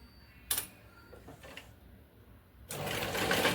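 Sewing machine stitching the back neck of a blouse, short bursts of rapid needle chatter separated by pauses, then a longer louder run near the end, close and without talk.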